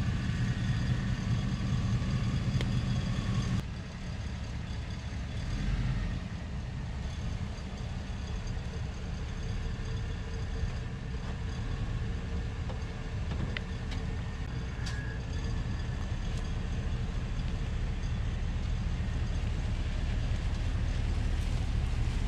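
A Cadillac Escalade 6.0 AWD stuck in mud backs up and drives out, its engine rumbling steadily and close, with the tone shifting as it changes direction and revs.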